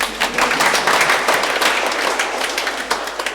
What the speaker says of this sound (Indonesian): Tepuk tangan untuk Lektris.